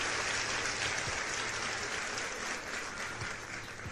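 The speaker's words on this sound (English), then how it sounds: "Let's give it a round for Jesse. Ooh, that's loud." Applause played through speakers during a trading livestream, a steady, loud rush of clapping lasting about four seconds and fading slightly at the end, with faint background music underneath.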